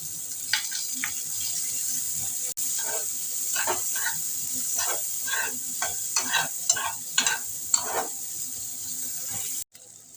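Chopped onion hitting hot oil in a pan, a steady close sizzle with a run of scraping stirs and clinks across it, ending in a sudden cutoff.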